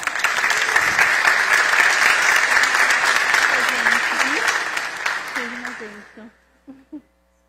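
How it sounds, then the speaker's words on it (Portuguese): A church congregation breaks into loud, sustained applause to welcome a woman on stage, dense clapping that fades out near the end as a few voices speak over the last moments. "com as nossas palmas?"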